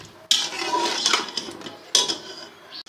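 A spoon scrapes and clatters against a pot as aloo gosht with added yogurt is stirred and fried, giving two loud bursts of metallic scraping with quieter stirring between them.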